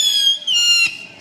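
Fireworks during a Fourth of July night in a Post Falls, Idaho neighborhood: one shrill whistling tone gliding slightly downward for about a second, with no distinct boom.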